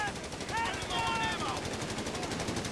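Machine gun fire in a Company of Heroes 3 battle, a steady rattling burst running through the whole stretch, fairly loud, with sweeping tonal game sounds layered above it.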